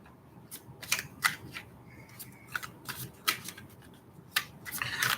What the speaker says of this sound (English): So I'm pulling your cards